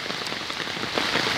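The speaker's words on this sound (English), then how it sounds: "it looks like Chicago went from the Windy City to the Rainy City" Steady rain patters densely on a surface, a continuous close hiss with scattered drops and no voices.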